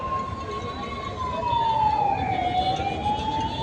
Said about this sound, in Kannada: ಬೇಗ ಬೇಗ ಆಂಬ್ಯುಲೆನ್ಸ್ಗೆ ದಾರಿ ಮಾಡಿಕೊಡಬೇಕು